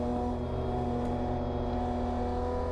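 An endurance race car on track at Watkins Glen during a ChumpCar World Series race makes a loud, steady engine hum with strong tones that stays level the whole time.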